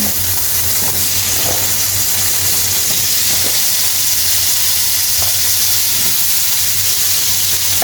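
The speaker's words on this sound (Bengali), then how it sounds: "আলুগুলোকে হালকা হালকা একটু লাল লাল করে আমরা আলুগুলোকে ভেজে নিচ্ছি" Potatoes frying in hot oil in a wok, a steady dense hiss and sizzle that runs unbroken and fairly loud throughout, with no voices.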